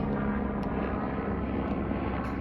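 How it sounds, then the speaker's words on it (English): A steady engine drone of a helicopter overhead, constant and fairly distant, with no voices. "That helicopter, wow."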